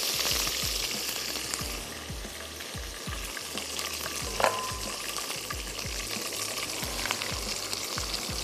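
Onion paste fries in a pan for a vegetable curry, a soft continuous sizzle with a low rhythmic rumble beneath and one sharp clink of a utensil midway, no voices.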